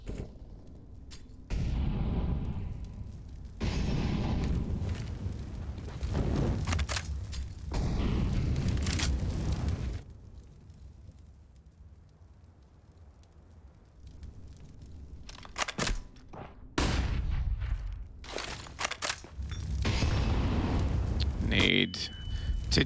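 Grenade blasts and bursts of gunfire in Counter-Strike on the Dust2 map during an esports match, loud booming thuds and rattling shots in several clusters, with quieter gaps between them.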